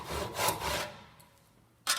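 Hand saw cutting wood clamped in a vise: a few rasping back-and-forth strokes, close and fairly quiet, fading out, then a final short stroke.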